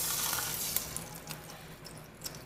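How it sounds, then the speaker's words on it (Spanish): Soy sauce sizzling in a hot frying pan, a steady close hiss that fades slightly, with a few soft clicks and no talking. "Después prepárate sartén y después échale soya que hice salsa"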